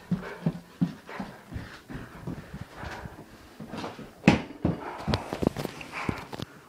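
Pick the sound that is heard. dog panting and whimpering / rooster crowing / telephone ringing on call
dog panting and whimpering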